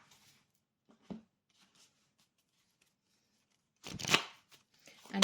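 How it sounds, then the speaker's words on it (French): Oracle cards handled and drawn from a deck during a reading: a soft isolated slap of a card, then a brief close burst of papery shuffling and flicking against near silence. "on va prendre une dernière carte sur l'oracle des Lumières"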